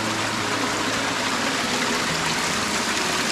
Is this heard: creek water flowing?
yes